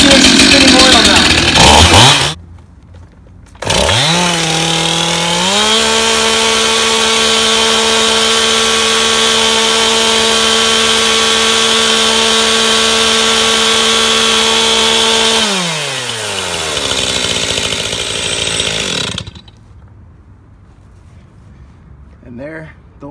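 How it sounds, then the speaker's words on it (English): A repaired chainsaw, its bar and chain oiler just fixed, runs loud and close: a short burst, a pause, then a rising rev into a long steady high idle before it winds down and cuts off, with talk over it. "So we got a fixed chainsaw now."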